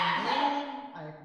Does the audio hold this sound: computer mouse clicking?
no